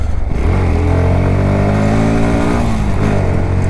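A Bajaj Pulsar NS160 BS6, a 160 cc motorcycle making 17.2 PS, accelerates hard with a loud, close exhaust note whose revs climb, dip briefly at a gear change, then rise again.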